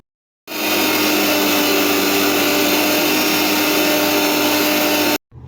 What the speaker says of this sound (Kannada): ಸೊ ನಾನು ಇವಾಗ ಒಂದು ಮಿಕ್ಸಿ ಜಾರ್ಗೆ ಶುಂಠಿ ಮತ್ತು ಕಾಯಿನ ಸ್ವಲ್ಪ ಪೌಡ್ರ್ ಮಾಡ್ಕೊತೀನಿ.